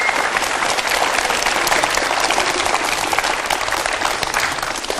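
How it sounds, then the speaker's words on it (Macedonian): Sustained, dense applause from a school audience at an event, loud and steady throughout with no pauses and no talking. "Ајде, посилен аплауз"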